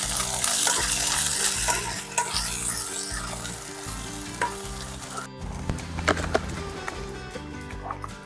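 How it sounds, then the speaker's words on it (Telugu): Ginger paste frying with browned onions in a pan, a loud continuous close sizzle with occasional scraping stirs and utensil knocks, over a steady low background hum. "నెక్స్ట్ ఇందులో మనము అల్లం పేస్టు ఫ్రై చేసుకుందాము"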